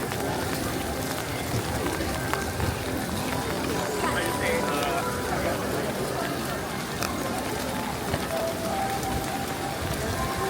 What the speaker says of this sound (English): The rain is really coming.